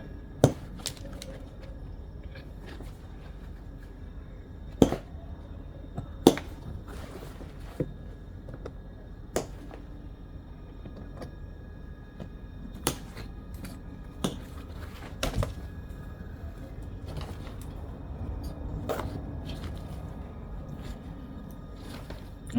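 Hog rings are snipped one by one while a leather armrest cover is removed from a 2009 Lexus IS. The sharp metallic clicks and snaps come at irregular intervals over quiet handling noise.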